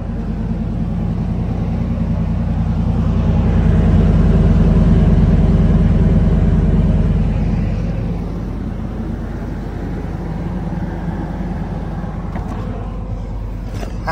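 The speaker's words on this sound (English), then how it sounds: "We gonna do a cold start." A car engine cold-starting and idling, a loud, close, steady low rumble that swells higher for several seconds before settling into a lower, even idle, with no talk.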